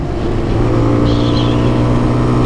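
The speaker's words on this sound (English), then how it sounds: "This frame is based on a 125cc bike with a 200cc engine." A stock Honda supermoto replica, a 125cc frame fitted with a 200cc engine and no exhaust, idles steadily with a low, even engine drone throughout, close and constant with no voices.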